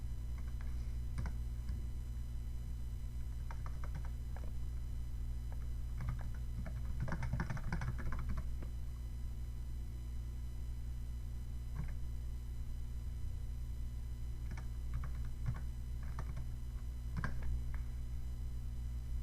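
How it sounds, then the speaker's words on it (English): Quiet clicking of keys on a computer keyboard, typed in short scattered bursts over a steady low hum, with a denser flurry of keystrokes near the middle. "merely press space and then start typing the next shortcut"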